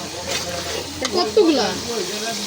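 A large rida fish head goes into hot oil with cooked-down spices, and a close sizzle and stirring follow, with some voice murmurs in the background.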